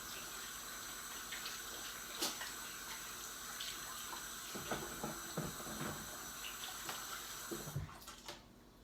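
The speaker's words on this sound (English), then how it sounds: "I'm going to wash my hands." Hands are washed under a running tap after kneading bread dough, with a steady close hiss of water broken by splashing and rubbing, until the flow shuts off near the end.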